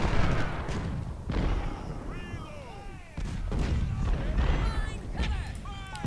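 Artillery fire booms out on a Civil War battlefield in the strategy game Ultimate General: Civil War. The dull heavy thuds come in bursts among other battle noise, with a person talking over them throughout.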